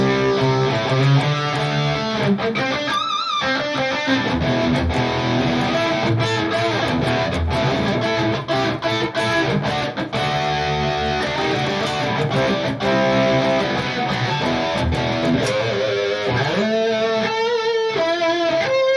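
Harley Benton Fusion HSS electric guitar playing a driven rhythm part, dense strummed chords with light distortion and steady loud sustain throughout, with brief pauses and a few single-note lines near the end.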